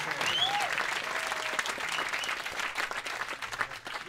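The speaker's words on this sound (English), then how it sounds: "let's have a round of applause." A concert audience in New York City applauds steadily for several seconds, a dense, loud wash of clapping with a few brief whistles near the start.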